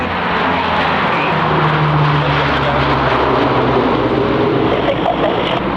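A military aircraft with an in-flight refueling probe flies a display at the 1995 Fairford airshow, its engines giving a loud, continuous, close roar with a steady low drone throughout.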